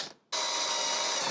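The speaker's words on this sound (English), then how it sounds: "Need to make some holes for the wiring." A power drill bores holes for wiring in a console case, a short pause followed by a steady, high, whirring grind.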